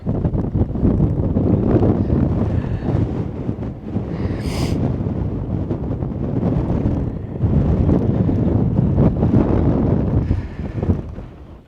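Strong wind buffeting the microphone on a mountain top in Banff National Park, in loud, continuous roaring gusts, with no voices.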